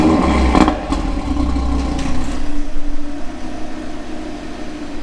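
Audi TT RS in stock tune on a dynamometer, its engine roaring loud and close with a rough, clattering rev that holds steady for several seconds, no voices.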